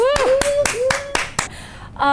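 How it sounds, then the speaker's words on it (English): A few people clap for a guest at the start of a talk show, roughly half a dozen distinct sharp claps in loose rhythm, heard under a voice that talks over them. "Let's give a clap for our guest tonight."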